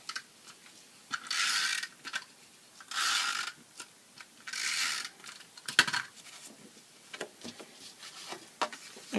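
A snail adhesive roller is run across white cardstock in several short, dry, ratcheting zips separated by pauses, close and fairly quiet, with small clicks and taps between the strokes.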